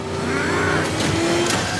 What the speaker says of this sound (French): Une voiture surpuissante, destinée à pourchasser ses ennemis.